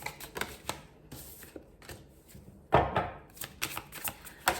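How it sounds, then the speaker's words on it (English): Tarot cards being shuffled by hand, producing bursts of crisp riffling and flicking separated by short pauses, close and fairly loud. "So I'll shuffle them."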